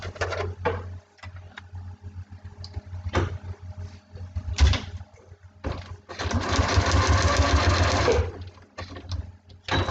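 Sewing machine stitching navy fabric, short bursts of rapid mechanical whirring broken by pauses and handling clicks, then a longer continuous run near the end, close and fairly loud with no voice.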